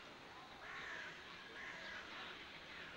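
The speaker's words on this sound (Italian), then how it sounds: "Tanti uccelli." Crows caw faintly a couple of times in the distance over steady outdoor background noise in a city park or zoo in Ljubljana.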